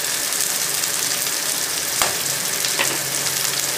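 Chicken with spices sizzles and fries in a pan for Chicken Schezwan, a steady dense crackle with a couple of soft scraping stirs, close and continuous without speech.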